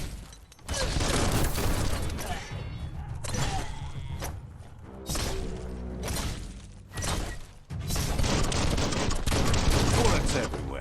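Gunfire in the video game Biomutant: bursts of rapid shots and sharp impacts fill most of the stretch, dense and loud, broken by brief lulls before erupting again.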